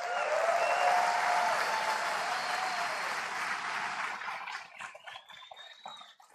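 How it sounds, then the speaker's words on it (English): An audience applauds at an Apple event, a dense, even wash of clapping that holds steady and then thins out toward the end. "Let's give them a big round of applause."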